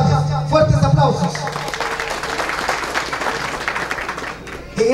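Audience applause for a guest at a classroom inauguration in the rural hamlet of Tuixcum, Tajumulco, a steady wash of clapping that runs for several seconds, with a voice speaking over the start.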